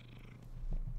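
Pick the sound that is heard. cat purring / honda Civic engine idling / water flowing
cat purring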